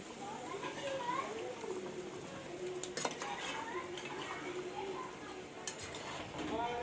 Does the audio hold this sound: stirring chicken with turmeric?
yes